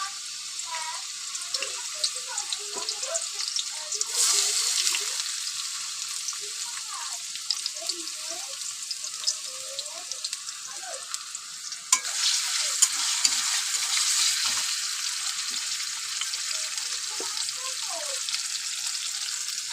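Potatoes and fish oil frying in a wok with garlic, giving a steady close sizzle with stirring scrapes and bursts of louder crackle, while water runs in a sink.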